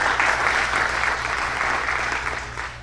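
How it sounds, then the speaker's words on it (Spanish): A church congregation bursts into applause during a Spanish-language sermon, dense steady clapping that holds loud and then eases off slightly toward the end. "Denle un aplauso al Rey"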